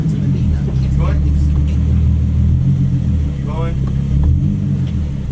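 A NISMO Nissan 370Z fitted with a Tomei titanium exhaust idles in reverse, its deep, steady low rumble running continuously close by while people talk over it.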